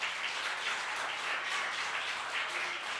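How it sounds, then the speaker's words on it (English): A church congregation applauds during a summer revival service, a steady wash of clapping that is fairly distant and fills the whole moment, with no voices on top. "give him another round of applause"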